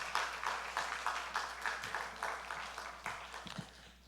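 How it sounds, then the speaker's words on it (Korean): A church congregation claps to welcome a pastor to the pulpit, a steady, moderately loud wave of applause with a faintly rhythmic pulse, heard without talk. "우리 박수로 우리 목사님 환영하도록 하겠습니다."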